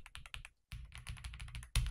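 Someone types on an Ajazz AK820 Pro mechanical keyboard, giving close, rapid clacks in short runs. A brief silent gap breaks the rhythm, and a heavier thump lands at the end.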